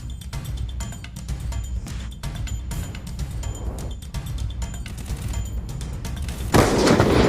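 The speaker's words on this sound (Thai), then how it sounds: "ระเบิดนี่นะปึ๊บ" Grenade blast in the Free Fire battle royale game: a steady crackle of gunfire and game noise, then a loud, broad burst near the end that holds on as a rumbling roar.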